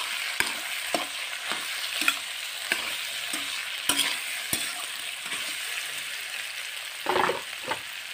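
A spiced potato filling with garam masala, salt and red chilli powder, for dosa, is stirred and fried in a pan: a soft steady sizzle broken by about a dozen sharp spoon scrapes and taps, with no voices.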